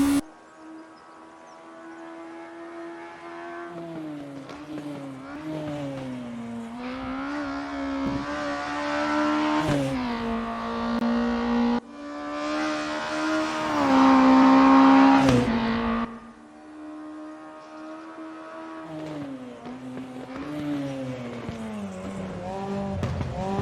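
A race car engine in the RaceRoom Racing Experience sim racing game revs up and down through repeated gear changes, loud and close, with a rising surge of high-rpm whine near the middle and no voices.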